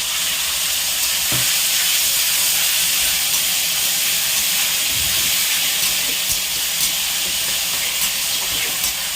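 Spice paste frying with tomatoes in a hot pan for an egg curry, a loud, steady sizzle and hiss running unbroken throughout.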